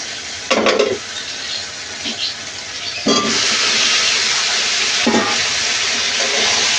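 Fried potatoes are stirred into sizzling spice paste in a pan, with a steady loud frying hiss broken by several scraping stirs of the spoon.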